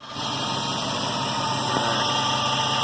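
A steady 2002 Jeep Grand Cherokee engine idling close by, a continuous mechanical hum with a faint high whine, holding even for a few seconds.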